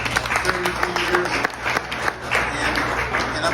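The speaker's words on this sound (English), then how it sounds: "let's give him a round of applause" Restaurant audience applauds at a 33rd anniversary celebration, a steady wash of clapping mixed with crowd noise and a voice speaking over it throughout.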